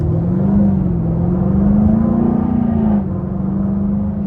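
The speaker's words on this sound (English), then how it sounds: "this exhaust is absolutely nuts" Exhaust note of a 2024 Jaguar F-Type P450 R-Dynamic with a supercharged V8, heard from inside during a drive: a loud, steady droning growl that swells gently in pitch, then eases slightly toward the end.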